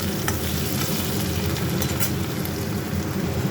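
Onion and tomato frying in a pan, heard as a dense, continuous sizzle with scraping stirring up close, loud and steady throughout with no voices.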